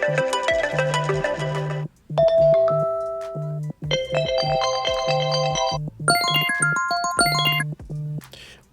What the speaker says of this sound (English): We can select any of these ringtones.